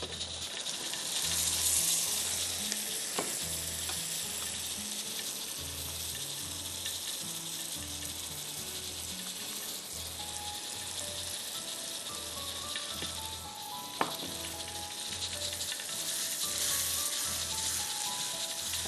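Onions fry in a pot on a stove with a steady, even sizzle that holds for the whole stretch beneath a low rhythmic background pulse, moderately quiet and close.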